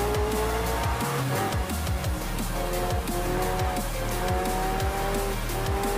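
Race cars in the video game Forza Horizon 4 roar continuously with revving engine tones rising and falling through gear shifts, mixed with sustained tire squeal and skidding, loud and dense throughout.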